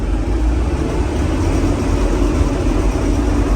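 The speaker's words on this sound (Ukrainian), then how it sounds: "Даю газу і чуєте, як тихо працює двигун без ніяких шумів" Steady, dense engine rumble from a John Deere 1052 combine harvester running continuously at high idle, loud and close, with no talking.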